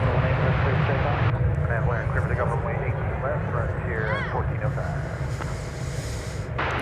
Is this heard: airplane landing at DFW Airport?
yes